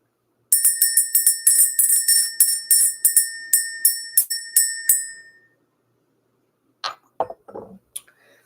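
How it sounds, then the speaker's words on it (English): A small bell rings repeatedly in quick succession, bright and close, each strike ringing briefly before fading into silence, followed by a few faint clinks. "Let's go ahead and ring the bell."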